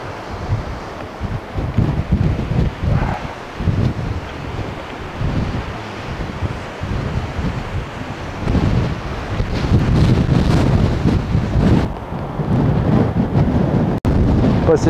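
Strong wind buffets the microphone on a cliff edge at Sand Point, England, a loud, continuous rumbling roar with gusts that swell and fade, while surf may wash faintly below.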